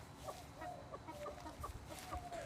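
Several chickens cluck and squawk in a restless, agitated run of short calls, moderately close over a faint background hiss.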